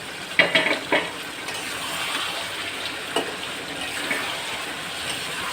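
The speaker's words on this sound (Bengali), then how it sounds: "এখন আমি মাংসটারে সুন্দর করে কষাবো।" Two kilograms of meat is braised in a pan and stirred, a few quick scraping clatters at first followed by a steady soft sizzle with occasional stirring knocks; nobody talks.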